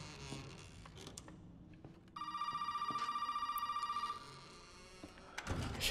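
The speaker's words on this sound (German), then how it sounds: "Ich hasse dieses Telefon." An old telephone in the Resident Evil 7 video game rings with a continuous trilling bell for about two seconds, fairly faint, over quiet ambient game sounds and occasional creaks.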